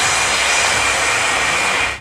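An Airbus A380 jet airliner's engines give a loud, continuous, close-sounding roar and hiss that stays steady for the whole moment, then cuts off sharply at the end, with no talking.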